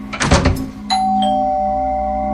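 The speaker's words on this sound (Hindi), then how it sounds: "तो डोरबेल बजी।" A two-tone electronic doorbell chime rings once, clear and sustained, just after a brief muffled clunk.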